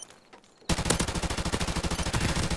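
Rapid automatic gunfire in a 2v2 Sabotage video game match, starting abruptly after a quiet moment and continuing as a loud, dense, steady burst of shots.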